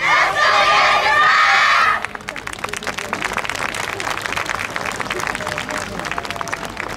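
A crowd at a YOSAKOI dance festival's final performance on the beach, with a loud burst of cheering and applause for about two seconds before it cuts to quieter clapping and a murmuring crowd.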